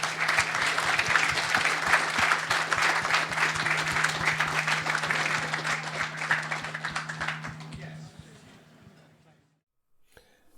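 An audience at an agroforestry show panel session gives the panellists a warm round of applause, dense and steady for about eight seconds before fading to quiet.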